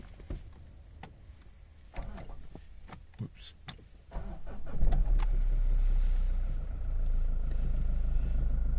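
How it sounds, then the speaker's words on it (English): A 2013 Mazda 6 2.2D Skyactiv diesel engine cranks and starts after a few seconds of quiet clicks and movement, then settles into a steady, low, nearby idle; someone speaks briefly. "So now we can start the car."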